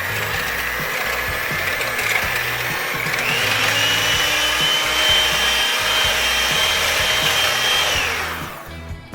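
An electric mixer whips cream with three tablespoons of sugar for a mint chocolate chip cream pie, whirring steadily with a rising whine for several seconds before winding down.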